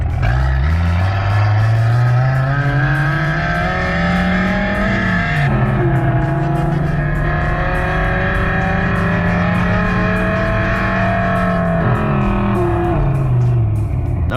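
A Jeep's four-cylinder engine revs hard toward about 6500 RPM, a loud, close, buzzing howl that climbs and falls in pitch in several long sweeps, roughly tuned to sound like an exotic car.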